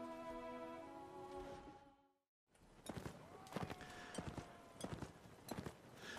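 Cavalry horses in Mount & Blade: Napoleonic Wars clop along in a steady, busy hoofbeat rhythm with sharp, loud strikes, close by and overlapping, after a brief silent break; game sounds run underneath.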